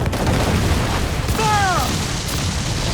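Ship cannons boom across a naval battle in Assassin's Creed IV Black Flag, heavy dull blasts rolling under a continuous din, with a brief whistling shot cutting through midway.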